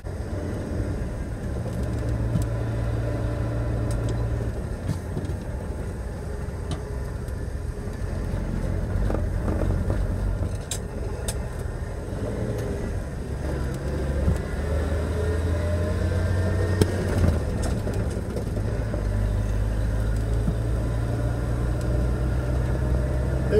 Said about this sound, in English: There's no better sound of a finely tuned six-cylinder engine, especially one with 8-to-1 compression.